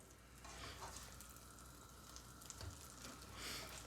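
A tuna melt sandwich fries in a pan, giving a soft, continuous crackling sizzle that holds steady throughout with no talking.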